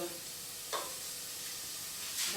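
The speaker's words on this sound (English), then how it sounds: "Sweat the leeks, mix it with the" Sliced leeks sweating in butter in a pan for carrot coriander soup, a soft continuous sizzle with a couple of brief scraping stirs, one in the middle and one near the end.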